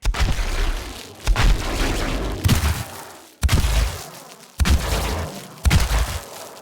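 An electric sci-fi weapon effect built with the Weaponiser plugin fires in about six loud, punchy bursts. Each blast has a booming attack and a crackling tail, spaced roughly a second apart with no voices.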